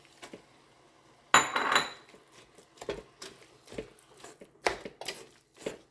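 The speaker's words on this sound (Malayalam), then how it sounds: "അതിൻ്റെ കൂടെ തന്നെ ആ ചെറുപയർ ഉടച്ചിട്ടേക്കാം." Cooked green gram being mashed in a pot of spinach curry, with a loud metal scrape on the pot followed by soft irregular squishing and tapping strokes, close, with no talk.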